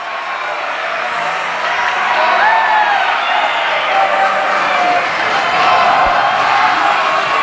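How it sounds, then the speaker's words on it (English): Ice hockey crowd at a high school championship game cheering wildly, a loud sustained roar with whoops and shouts that swells and stays intense throughout. "And this crowd, well, half of it is going wild."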